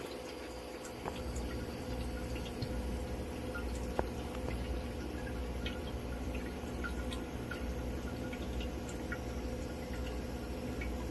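Water drips into the auto-filling bucket of a DIY dual ultrasonic disc humidifier for a mushroom tent, scattered small drops landing over a steady low hum, close and fairly quiet.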